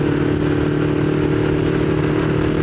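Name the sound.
motorcycle riding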